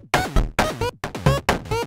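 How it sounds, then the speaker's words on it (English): Moog synthesizer notes in an Undertale-style track: four bright, harmonically rich plucky tones, each with a gliding pitch and quick decay, played alone in a steady rhythm. "my Moog synths are gonna sound like this"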